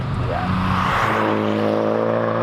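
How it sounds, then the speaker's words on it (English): Loud, close engine note from a Hyundai i20N hot hatch, a steady droning tone rising in pitch as it revs, with crackling exhaust pops and bangs layered over the continuous drone. "those pops and bangs, they're really loud"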